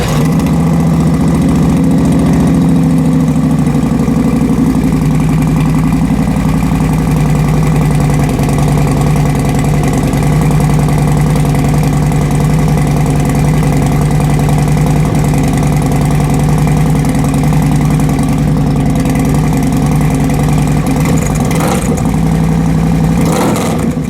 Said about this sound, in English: Alright, so this is a cold start.